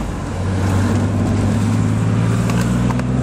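A custom car's engine idling steadily, a deep continuous low rumble with a constant hum, close and loud, with faint scattered knocks over it.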